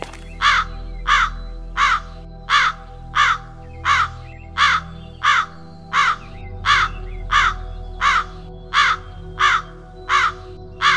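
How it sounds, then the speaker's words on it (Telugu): A crow caws over and over at a steady, regular pace, about fifteen loud calls spaced evenly against a low background hum. "మనల్ని చాలాసేపు నుండి కాకులు ఎంబడిస్తున్నాయిరా"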